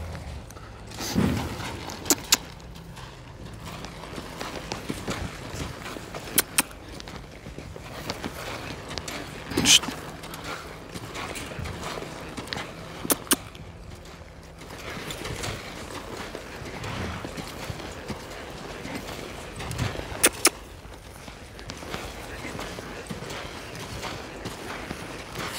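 A horse being worked in a Mexican futurity training session, its hooves clip-clopping in scattered irregular beats at moderate distance over a steady background, with a few sharper knocks.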